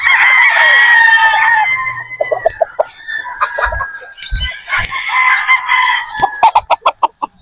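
Boston Roundhead rooster with a straight comb crowing loudly up close, followed by a run of clucks and short calls.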